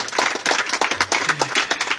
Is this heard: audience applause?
yes